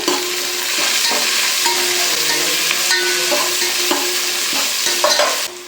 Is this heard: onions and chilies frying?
yes